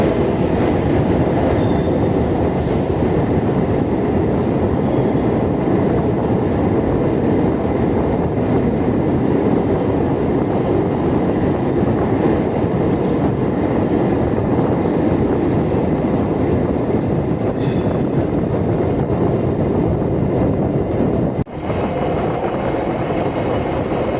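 A Chennai MRTS elevated train runs on the line from Velachery toward St. Thomas Mount, producing a steady, loud rolling rumble recorded from on board, with occasional wheel clicks and a sharp knock near the end.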